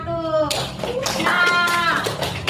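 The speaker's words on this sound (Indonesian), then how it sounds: "Tepuk tangan dulu buat kelompok 1." A classroom of children applauds for the first group, a burst of clapping and tapping mixed with young voices and chatter, close and fairly loud throughout.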